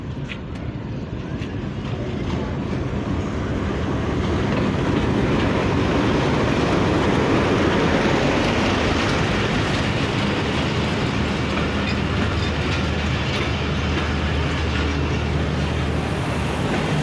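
A Pakistan Railways train rolls past close by. A loud, steady rumble and wheel clatter fill the whole stretch, with no gaps and no voices.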